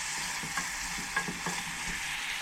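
Garlic and onion fry in a pan with a steady, soft sizzle, while a few spoon-on-pan scrapes and knocks from stirring break in near and quiet. Nobody speaks.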